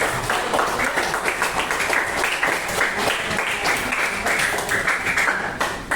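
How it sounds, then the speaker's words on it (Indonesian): A Year 7 classroom claps for classmates, dense and continuous hand-clapping filling the room from start to finish. "kita beri tepuk tangan untuk teman-temannya yang sudah aktif"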